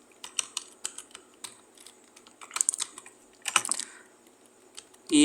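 Computer keyboard keys typed in short irregular bursts, entering the Linux terminal command ifconfig eth0 down to take down the Ethernet interface, close and moderately loud with brief pauses between clusters of keystrokes and a final heavier thump.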